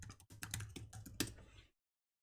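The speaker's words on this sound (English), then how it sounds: "let me see if I just type something wrong" Typing on a computer keyboard, a quick burst of about a dozen close, crisp key clicks in an uneven rhythm lasting under two seconds, followed by silence.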